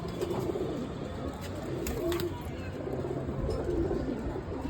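A returned racing pigeon coos softly in repeated low, throaty phrases over a steady outdoor background hiss.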